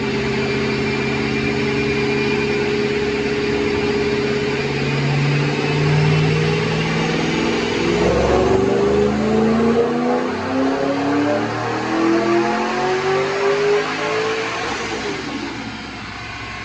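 A supercharged 2007 Ford Mustang GT with a Paxton Novi 2200 supercharger revs up on a chassis dyno, engine note climbing steadily in pitch with supercharger whine, loud and close, then tailing off near the end.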